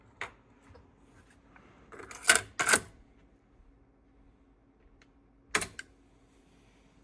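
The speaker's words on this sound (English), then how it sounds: "Let's change the tape. Let's use Maxell." Cassette being swapped in a Technics RS-M95 deck with a Maxell tape loaded: a few sharp mechanical clicks and clacks of the door and cassette, a close pair together then one more after a pause, in a quiet room.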